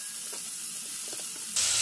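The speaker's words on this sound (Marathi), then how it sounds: "आता हा सुद्धा थोडासा गुलाबी रंगावर घेऊन तेलातच परतून घेणार आहे" Sliced onion frying in oil in a pan while making poha, a soft continuous sizzle with a few faint stirring touches, swelling louder in the last moments.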